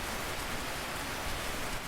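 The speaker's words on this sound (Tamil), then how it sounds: "அப்புறம் என்ன, கொட்டு மழை ஆரம்பமாயிடுச்சு" Heavy rain pours down steadily in a cartoon story scene, a dense, even hiss of falling water that continues unbroken, with no voices.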